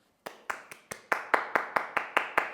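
A man clapping his own hands at close range, a steady run of about eleven sharp, evenly spaced claps that grow slightly louder after the first few, with no talking.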